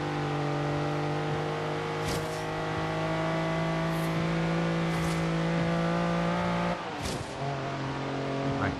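Lamborghini Countach LP5000 QV in Forza Horizon 3 accelerating hard, its engine droning at steady high revs, then a brief dip and gear change near the end before pulling again.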